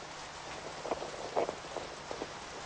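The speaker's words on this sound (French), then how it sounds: "pluie" Steady rain falls over a tropical forest, a dense even hiss of drops with a few louder patters standing out, and no voices.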